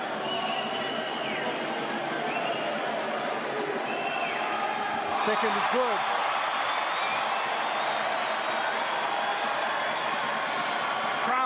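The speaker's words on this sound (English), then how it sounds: "Crowd getting involved at the BK Arena." A basketball crowd at the BK Arena keeps up a steady, broad roar and murmur during free throws, with a louder swell midway, while a commentator talks over it.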